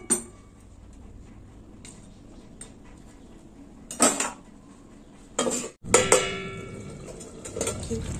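A lid set on a cooking pan of mouri potol, posta with fennel and gravy: sharp metallic clanks and clatter, two close bursts in quick succession, over quiet kitchen background.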